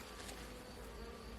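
Honey bees buzz steadily around a backyard hive, a soft, continuous hum held at low level throughout without any voices.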